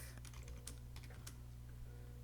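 Quick, irregular clicking of keys being typed on a computer keyboard, close and steady, with light taps scattered across the whole stretch and no talking.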